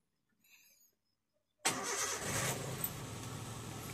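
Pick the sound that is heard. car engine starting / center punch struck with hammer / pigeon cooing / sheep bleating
car engine starting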